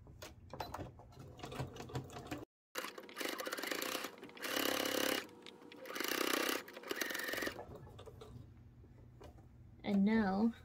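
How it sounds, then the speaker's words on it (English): Sewing machine stitching the hem of a hanging kitchen tea towel, fast mechanical needle chatter in several bursts separated by pauses, with someone speaking in between and over the stitching. "now I'm going to create an other stitch which will be 1/2 inch"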